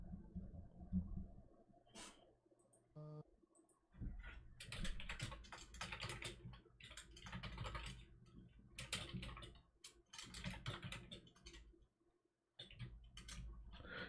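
Fast clicking of keys on a computer keyboard, a steady close patter of typing with brief pauses and a short gap near the end, no voices.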